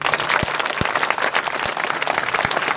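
An audience claps for the winners of a singing contest, a dense, steady round of applause with a few sharper individual claps standing out, lasting the whole stretch with no talk.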